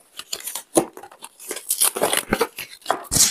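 Scissors snip plastic tag ties on new clothing, with irregular crisp clicks and rustling fabric and plastic close by.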